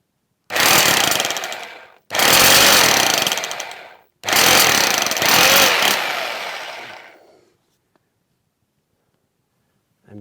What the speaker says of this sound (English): I'm taking the small drill.